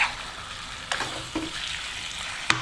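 Chicken fries in a pan with a soft, steady sizzle while a spoon stirs it, giving a few light scraping clinks against the pan.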